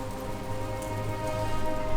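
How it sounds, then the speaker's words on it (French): Light rain beginning to fall on a high Austrian mountain pass, a steady close patter of drops on the surface that grows slightly stronger toward the end, with no talking. "Il commence à pleuvoir un petit peu."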